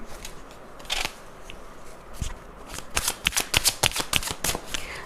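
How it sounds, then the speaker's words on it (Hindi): Tarot cards are shuffled by hand, starting with a few scattered flicks and then breaking into a quick run of crisp riffling snaps, close and fairly loud. "चलिए आगे बढ़ते हैं और टैरो कार्ड्स से थोड़ा सा क्लैरिफाई करते हैं।"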